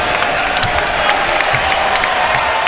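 Basketball fans in an arena cheer and applaud at a Knicks home game, a loud, dense, continuous wash of clapping and crowd noise with no letup.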